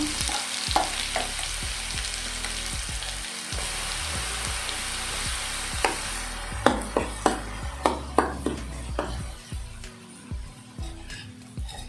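Chili garlic chutney, an Andhra-style garlic relish, sizzles and fries in a pan, a steady close crackle broken by a run of sharp stirring knocks and scrapes against the pan in the latter half; no talking.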